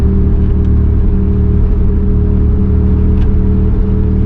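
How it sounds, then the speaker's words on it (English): A Camaro engine drones loud and low from inside the car while driving under throttle, a steady rumbling hum with small uneven stumbles as it misses coming up to speed. "I do feel it missing, and when I try to give it gas, coming up to speed, it is missing a little bit."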